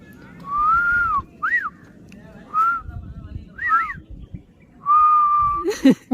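A person at a zoo whistles a series of short, clear tonal phrases with brief pauses between them, loud and close over low outdoor background noise.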